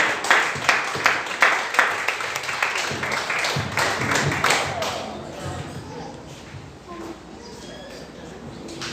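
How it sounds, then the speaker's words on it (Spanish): Church congregation applauding during a service, a dense burst of clapping that starts loud and rhythmic, then thins and fades into a softer scattering of claps with a murmur of voices underneath. "Dele fuerte su ofrenda de aplauso al Señor."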